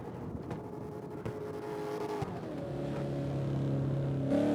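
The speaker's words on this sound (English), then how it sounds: "Carrying some serious speed with this BMW machine as well." A BMW rallycross car accelerates on a dirt track, its engine droning steadily and rising in pitch toward the end, heard from a moderate distance with continuous mechanical roar.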